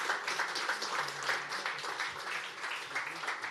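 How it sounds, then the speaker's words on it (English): Audience applause for a panel at a Slovenian-Polish business forum on cybersecurity and artificial intelligence, a steady dense wash of clapping from a hall crowd holding level for several seconds with no voices over it. "An applause for the panel."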